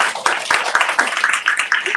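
A crowd at a health and wellness expo claps briefly and steadily, with a dense patter of hands and no voices standing out over it.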